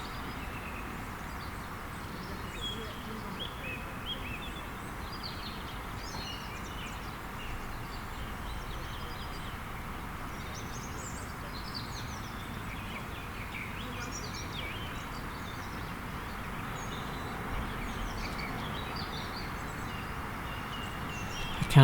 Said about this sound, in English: And you hear the birds chirping in the distance.